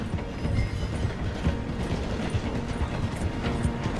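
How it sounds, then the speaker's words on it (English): A steam-era train in Red Dead Redemption 2 rolls slowly through a station, a continuous rumble with rhythmic clanks and rattling of the carriages, loud and close. "The train is slowing down to go through the station."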